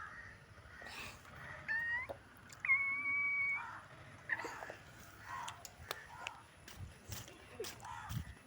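A cat meows a few times in short, drawn-out calls, fairly quiet and close, amid light background rustles and scattered knocks.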